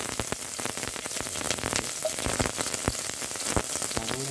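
Onion frying in hot oil gives a dense, continuous sizzle with crackling pops, close and loud, with a few faint utensil clinks near the end.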